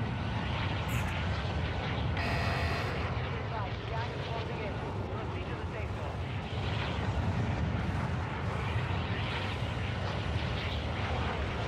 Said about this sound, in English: Plane's not running real well. It's kind of sputtering.